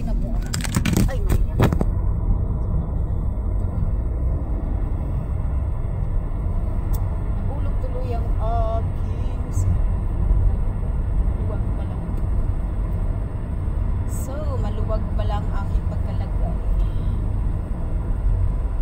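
A car rolls slowly along a scenic autumn road, its low engine rumble and tyre noise steady and close throughout, with a few brief higher chirps and clicks over the drone.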